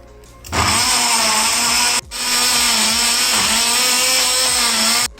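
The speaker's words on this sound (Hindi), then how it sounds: "और अब इन दोनों चीज़ों को अच्छी तरह मैं ग्राइंड कर लूँगी।" A blender grinds chilled mango and cream with a loud, steady motor whine that starts abruptly, cuts out briefly near two seconds, then runs again before stopping.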